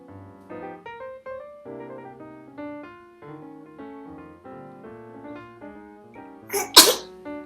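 A single sharp sneeze bursts out near the end over soft background music.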